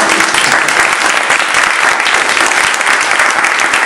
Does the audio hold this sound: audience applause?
yes